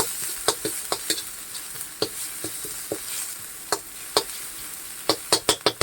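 Home-style Thai curry paste sizzling in a hot pan while a utensil scrapes and stirs it in quick, uneven strokes, with sharp close clacks over a steady frying hiss and no talking.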